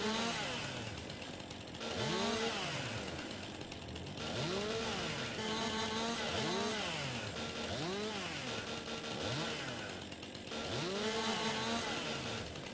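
A chainsaw in the Landwirtschafts-Simulator 22 video game cuts hardwood trees, its engine revving up and down in a repeating cycle of rising and falling whines, loud and steady throughout.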